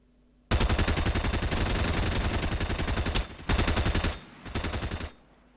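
Assault rifle fire from the Fortnite video game rattles out in long, rapid, loud bursts with brief pauses between volleys, and no voices are heard.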